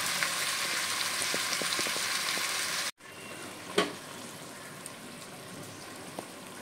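Food sweetened and frying in a pan sizzles steadily while being stirred, then the sizzle drops abruptly to a quieter hiss with a few faint scrapes and clinks.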